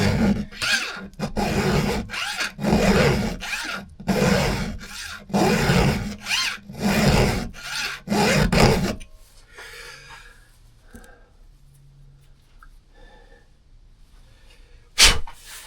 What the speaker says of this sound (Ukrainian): оцей зубчик, який ви зараз бачите, він тільки що був наточений напилком